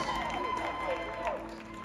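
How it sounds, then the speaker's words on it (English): An audience at a bodybuilding physique show applauds and cheers for the category winners, a steady crowd roar with clapping under overlapping voices and whoops. "And audience members, a round of applause for your category winners"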